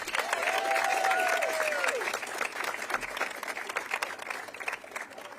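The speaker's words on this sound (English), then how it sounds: "can we have another round of applause for them?" Audience applause for a children's chorus at an outdoor menorah lighting rings out loud and dense, with a whistle or cheer rising over it early on, then thins into scattered clapping that carries on to the end.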